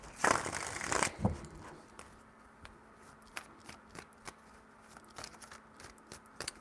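Tarot cards get a quick burst of shuffling up close, a dense riffle lasting about a second, followed by faint scattered handling sounds in a quiet room.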